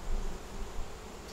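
Honey bees hum steadily and faintly inside an open hive during an inspection of brood frames, a continuous low buzzing drone with no voices over it.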